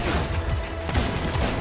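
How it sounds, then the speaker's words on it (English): Ship cannon firing in the pirate game Sea of Thieves, one dull booming blast in the middle of a constant rumble of sea and game noise, with a faint voice under it. "Cannon."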